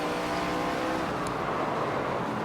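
Constant loud drone of a race car engine in the NASCAR 25 video game, held at steady high revs throughout with no letup and no talk.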